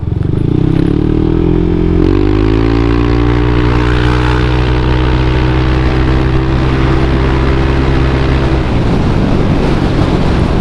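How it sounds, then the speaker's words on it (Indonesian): Yamaha Aerox 155 VVA scooter with a four-valve SOHC engine, ridden at part throttle over paving blocks: a loud, steady engine drone with a rising pitch early on, then a shift in tone near the end, with no talking. "Jadi suara knalpotnya kayak nyos-nyos gimana gitu ya"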